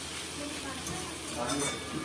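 Leafy greens frying in a pan, a soft, continuous sizzle close by with occasional stirring scrapes, fairly quiet throughout.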